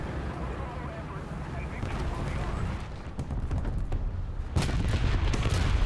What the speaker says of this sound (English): something just shot the IS-2